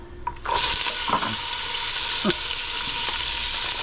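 Chopped onion hits smoking-hot oil in a pan for blackened salmon with risotto, bursting into a loud, steady sizzle after a brief quiet start, with a few spatula scrapes and stirs through the frying.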